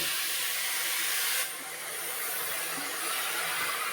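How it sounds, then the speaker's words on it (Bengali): Bottle gourd leaves steam in a dry wok with no oil, giving a loud, steady broadband hiss that drops a little partway through and then carries on evenly. "এখানে কড়াই বসিয়ে দিয়েছি আমি কোনো তেল টাল দেবো না লাউ পাতাগুলো একটু ভাপিয়ে নেব"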